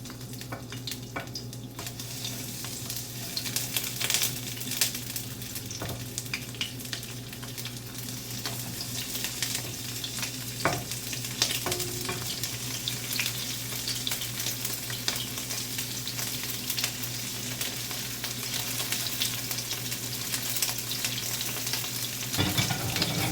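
Shrimp frying in hot oil in a pan for a stir fry with asparagus, a steady dense sizzle that holds throughout with occasional soft clinks and stirring scrapes.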